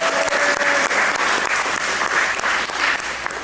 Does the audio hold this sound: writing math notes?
no